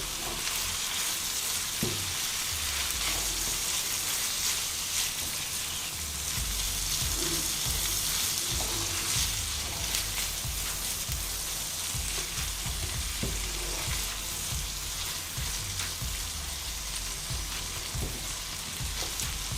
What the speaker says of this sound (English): then we're gonna stir everything around